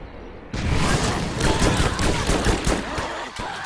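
Shotgun fire in the video game Borderlands, a dense burst of loud blasts and gunfire starting abruptly and continuing steadily with thumping impacts, no talking heard.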